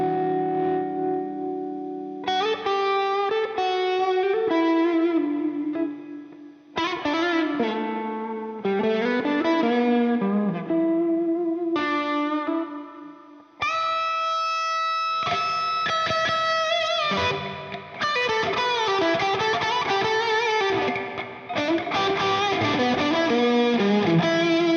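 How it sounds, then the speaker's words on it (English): A Donner Telecaster electric guitar played through a plate reverb, with chords and melodic lines ringing out in spacious, washy tails, loud and alone with no talk. "My favorite one was the plate reverb"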